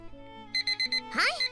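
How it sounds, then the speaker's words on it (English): Timed alarm going off in The Fruit of Grisaia visual novel: four short, evenly spaced electronic beeps over soft background music, followed by a brief rising chime-like sweep. "As the timed alarm goes off"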